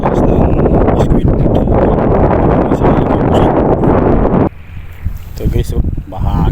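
Strong wind buffets the microphone at the seashore of Al Reem Island in Abu Dhabi during a squid-hunting outing, a loud roaring gust that drops suddenly near the end before rustling back, with a voice speaking.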